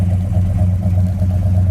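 A 1970 Buick GS 455 V8 rumbles steadily through its dual exhaust, a loud, deep idle with a pulsing low-end throb and no voices.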